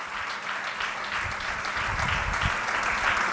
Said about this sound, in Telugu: అన్ని విభాగాల కొరకు చప్పట్లు కొట్టండి.